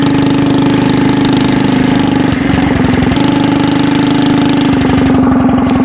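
A skateboard driven by a stationary engine roars loud and steady at close range, its chugging idle-like beat pulsing continuously with occasional knocking shifts and no talk.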